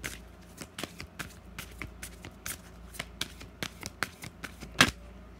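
Tarot cards being shuffled and riffled by hand, a steady run of quick crisp flicks and taps close to the mic, ending in a louder snap, with no talking.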